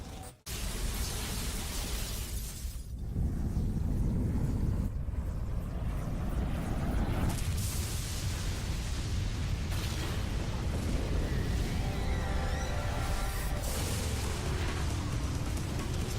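Boss Kreon blowing up in Vanquish amid a chain of surrounding explosions, a sudden loud blast followed by sustained roaring rumble and repeated bursts over about sixteen seconds.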